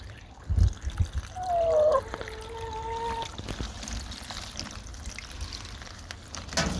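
A garden hose pours cold tank water into a bucket outdoors, a steady splashing trickle with some gurgling. A brief faint whistling tone rises in the middle, and the flow keeps running at moderate volume.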